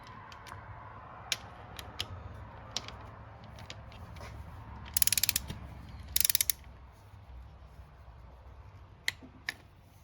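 A torque wrench tightens the cam bolts on a ZX6R motorcycle engine. Faint ratcheting turns are broken by sharp clicks and two short bursts of rapid clicking, all close and quiet.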